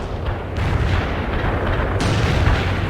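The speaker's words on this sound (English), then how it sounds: "Ivan is calling in artillery on your position" Artillery fire in the video game World in Conflict, a continuous heavy rumble of booming shell impacts, loud and close, with sharper blasts standing out, and no talking.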